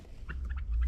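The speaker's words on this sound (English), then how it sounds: "The turkeys, they're taking a little dust bath because it's their first time outside in a while." Turkeys on a homestead let outside for the first time in a while, dust bathing and giving several short gobbling bursts close by over low rumbling background noise.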